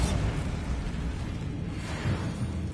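A Bombarda spell blast in Hogwarts Legacy makes a loud, close, rumbling explosion. It sustains for a couple of seconds, swells again near the end, and is heard with no talking.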